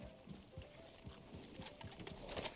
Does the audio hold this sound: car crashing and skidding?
no